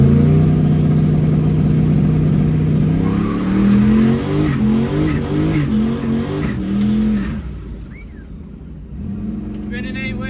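A C10 pickup truck held on its transmission brake at a drag strip, engine loud and rising through harmonic revs with tire-spin roar, then dropping away to a quieter idle; speech-like tagging but no clear words.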